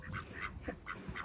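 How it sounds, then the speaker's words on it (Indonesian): A duck quacks in a short series of soft calls, fairly close and then louder at the end, with no talk over it. "Bebek apa? Kwek, kwek, kwek, kwek."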